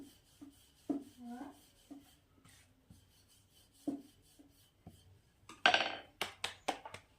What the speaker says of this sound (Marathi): हे बघा अशा प्रकारे मी छोटे छोटे पराठे लाटून घेते